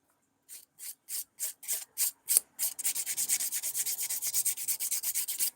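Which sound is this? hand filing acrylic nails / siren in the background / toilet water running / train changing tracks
hand filing acrylic nails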